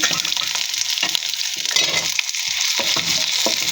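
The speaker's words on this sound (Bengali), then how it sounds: "এখন দিব পেঁয়াজ কুচি।" Chopped onion fries in hot oil alongside dried red chillies, giving a close, continuous sizzle and crackle with occasional louder pops and stirring scrapes.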